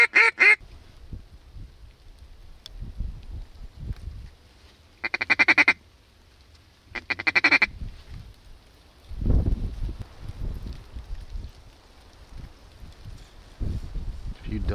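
Mallard ducks quack in loud bursts during a duck hunt, several clustered calls near the start and middle, with rustling and low thumps between them.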